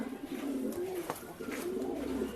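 A male pigeon, offered for sale in Bangalore, coos in soft, repeated low rolling calls close by, with light background noise.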